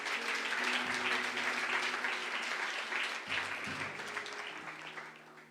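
A church congregation applauds together in sustained, dense clapping that fills the room, while a faint voice or music tone hums underneath.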